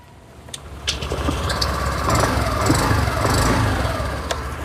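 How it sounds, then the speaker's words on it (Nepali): Exhaust note of a Honda Dio 110 BS6 scooter with a single-hole silencer: a close engine that rises from quiet after about a second into a steady idling drone with slight swells. "यो साइलेन्सर पाइप, साइलेन्सर तपाईको एक्जस्ट नोट पनि एकदम राम्रो छ।"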